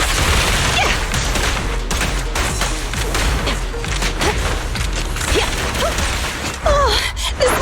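Weapon fire in the action game Zenless Zone Zero, a dense run of sharp shots and bursts over a busy mix of effects and music, with a brief voice near the end.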